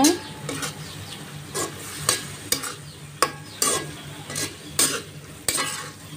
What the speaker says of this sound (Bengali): এখন দিয়ে সুন্দর করে একটু নাড়া দিব